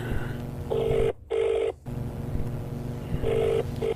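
Outgoing phone call ringback, a steady tonal ring in two bursts with a clipped gap between, repeating once more after a pause over low room noise, close and fairly loud.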